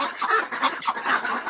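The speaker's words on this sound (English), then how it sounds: "D is for duck." A duck calls in a quick run of raspy quacks, several short bursts close together and fairly loud, with no talking.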